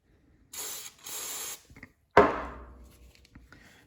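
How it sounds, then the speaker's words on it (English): White lithium grease sprayed onto a Dodge Viper pedal in two close hissing bursts of about a second each, followed by a sharp clunk of the part being handled and some faint rattling. "First, I'm going to hit it with some of this white lithium grease. Make sure we grease this all up here."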